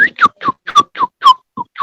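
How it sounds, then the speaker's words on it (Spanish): A person whistles a series of short, bright, rising-and-falling notes in quick succession, clear and close, with no talking. "¿quién hace algún silbido?"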